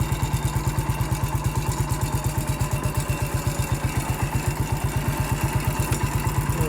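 An MF 14 bulldozer engine idles close by in a rapid, even diesel chug with a steady mechanical clatter on top, holding a constant loud level throughout.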